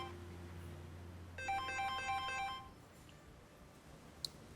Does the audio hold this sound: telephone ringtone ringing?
yes